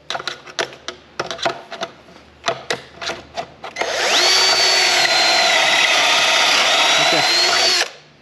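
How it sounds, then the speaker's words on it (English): Building a large rabbit cage: a series of short knocks and clicks, then a loud power drill spins up and whines steadily for several seconds before stopping. "Hold on to the drill."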